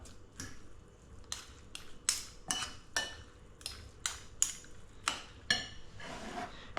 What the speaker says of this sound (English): just going to break those eggs on the veg and just mix it in for obviously a bit of flavour